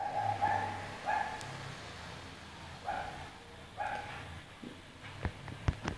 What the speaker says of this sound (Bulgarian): Съжалявам, ако чуете кучето на съседа